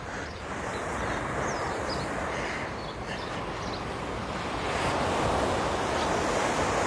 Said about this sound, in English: Watch how much they gather right here, the waves.